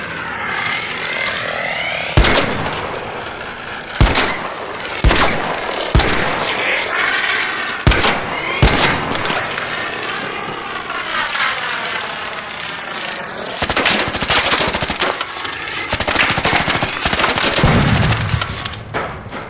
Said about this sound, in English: I want to try out this new shotgun anyways.